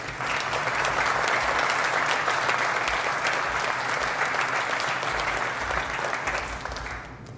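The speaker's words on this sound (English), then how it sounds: "I'd like you to get the round of applause that you deserve right now." A large crowd applauding loudly and steadily throughout at a groundbreaking ceremony for a research and development center, fading slightly toward the end.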